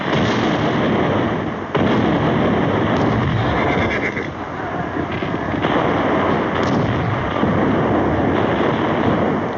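Battle din of cannon and musket fire, a dense, continuous roar of booming blasts and crackling shots with horses neighing amid the chaos, loud and unbroken throughout.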